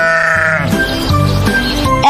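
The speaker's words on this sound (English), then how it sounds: "S is for sheep." Sheep bleating in a children's animal vocabulary lesson, with several loud, wavering bleats following one another over about two seconds, close and clear with no talking.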